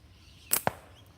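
A slingshot shot is fired outdoors, a quick sharp snap of the band followed immediately by a second short crack, both brief against a quiet background.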